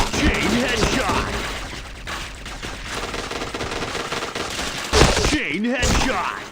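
Rapid bursts of automatic gunfire from a shooting video game, dense and continuous with brief pauses, and a voice talking over the shots.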